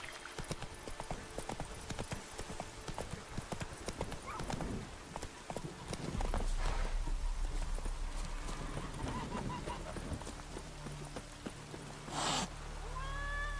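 Horse hooves clip-clop steadily in The Witcher 3, fairly faint under game ambience, followed by a low rumbling stretch and a brief whinny-like call near the end.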